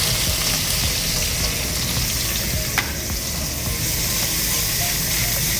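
Garlic and ginger sizzle and fry steadily in a smoking-hot wok, a dense continuous hiss with crackle and stirring, loud and close throughout, with no talking.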